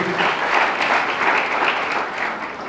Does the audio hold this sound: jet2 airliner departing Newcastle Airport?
no